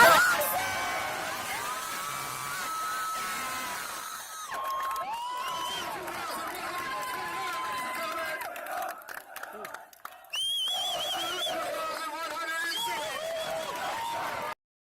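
A large crowd cheers, whoops and shouts at a Marine Corps boot camp graduation at MCRD San Diego, loud and sustained throughout with bursts of high yells; an announcer's voice comes and goes over the noise.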